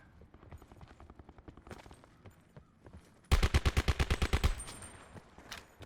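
Automatic gunfire from a shooter game, Call of Duty Blackout: a loud burst of about ten rapid, evenly spaced shots midway through, with fainter, more distant shots and scattered game noise before and after.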